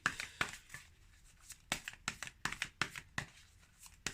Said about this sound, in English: your cards wanting quite a thorough shuffle.